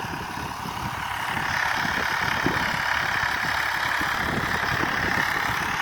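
A second-hand tractor engine runs steadily while driving a rotavator in a field on a windy day, a constant close drone with a rough low chug throughout.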